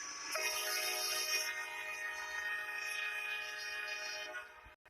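A toy train horn styled after a CSX locomotive sounds one long, steady, bright blast lasting several seconds before cutting off abruptly, near and alone.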